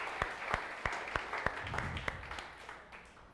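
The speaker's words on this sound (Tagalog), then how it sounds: "The best puling palakpak para kay Jesus" Church congregation clapping in unison for Jesus: a steady, evenly spaced beat of sharp claps, roughly three per second, moderately distant in a reverberant hall, fading slightly toward the end.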